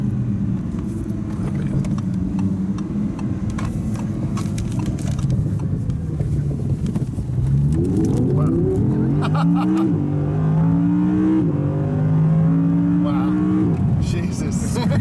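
Engine of a 2017 Audi R8 V10 (non-Plus, 540 horsepower) heard from inside the cabin, droning steadily and then revving hard through rising, stepped gear pulls, loud and close with occupants talking over it.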